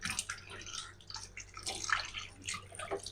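Raw shrimp are washed in water, with soft sloshing, dripping and trickling splashes, fairly faint and close, without talk.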